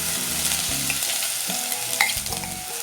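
Crushed ginger and garlic sizzle in hot oil with dried red chillies for a Kerala-style sardine chilli curry, a steady close frying hiss broken by several stirring scrapes and clinks, with no talking.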